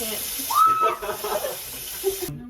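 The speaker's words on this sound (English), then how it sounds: "I'm gonna turn the sink off." A kitchen sink tap runs with a steady hiss of flowing water that cuts off abruptly near the end, while voices speak and make brief sounds over it.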